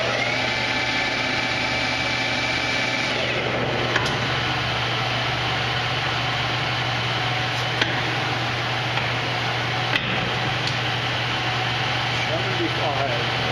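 A Victor lathe runs steadily at 603 RPM with a continuous, loud mechanical hum and whine. A few faint clicks come through the drone, and a tone at the start fades out after about three seconds.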